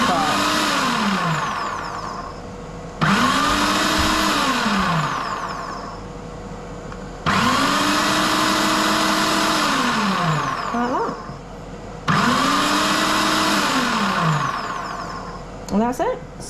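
A Ninja Foodi food processor chopping carrots in four loud bursts, each motor whine rising sharply, holding steady, then winding down in the pauses between pulses, close and dominant.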